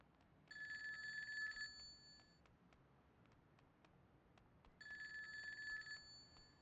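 A telephone rings in the GTA 2 video game, two bright electronic trill bursts about three seconds apart over a faint game background, with sharp ticks scattered in between and no talk.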